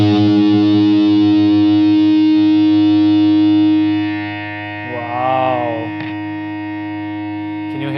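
Electric guitar played through a small Yamaha THR5 amp on a modern metal distortion setting: a thick, saturated sustained chord rings loudly for several seconds, then fades and is followed by a few shorter distorted notes.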